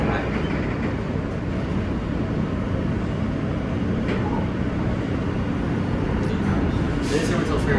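R train on a New York subway running via the Q line from 14th Street Union Square toward 96th Street, a constant loud rumble and roar of the moving car with faint rattles, heard from inside.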